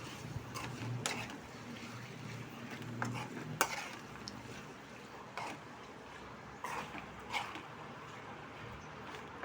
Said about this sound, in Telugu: స్కిన్లెస్ చికెన్ వేసుకుందాం. ఇప్పుడు తిప్పేసుకుందాం, చక్కగా కలిపి మిక్స్ చేసుకుందాం.